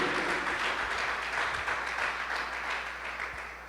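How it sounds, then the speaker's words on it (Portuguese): Church congregation applauding, a steady wash of clapping hands that holds evenly and fades slightly, moderately distant. "Vamos aplaudir a Jesus"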